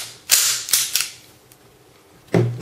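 A KWA Sig P226 gas blowback airsoft pistol fires several sharp, snappy cracks with slide clatter: three quick shots, a faint tick, then one more shot after a pause, close and clear.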